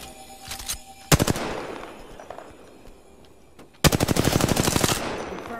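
Two loud bursts of rapid automatic gunfire in the Apex Legends battle royale game, a short volley near the start and a longer sustained stream near the end, with quieter game ambience between.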